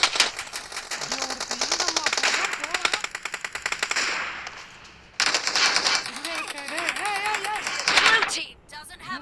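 Rapid automatic gunfire in a BGMI team deathmatch, loud dense bursts of shots with a brief pause between volleys, while someone talks over the shooting.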